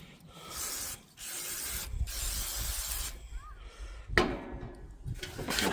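WD-40 sprayed and wiped over a Blackstone griddle during restoration, close hissing bursts with short gaps and a sharp knock near the end.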